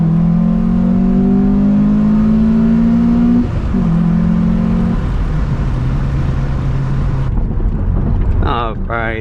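A Honda Prelude SH fitted with a new header pulls hard to about 4,000 rpm, its engine drone rising steadily and loud inside the cabin before dropping off as the shift comes, then quieter running with a brief high whine near the end.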